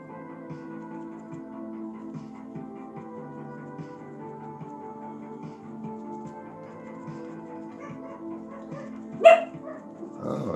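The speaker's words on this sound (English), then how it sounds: "Oh, doggy down the hall is communicating." A dog barks from down a hallway, sounding distant and muffled under a steady hum of room noise, with a sharper burst of sound near the end.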